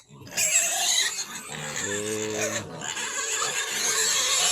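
Piglets on a Philippine pig farm oink and squeal steadily, close and fairly loud, with a brief deeper grunt in the middle and no talking.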